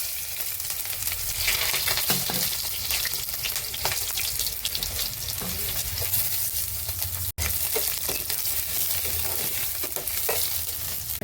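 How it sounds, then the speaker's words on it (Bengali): Onion frying in hot oil in a wok for a torka: a loud, steady, close sizzle with scraping from stirring, continuous throughout apart from one momentary break, and no talking. "তেল গরম হয়ে গেছে, এবার আমি পেঁয়াজটা দিয়ে দিলাম।"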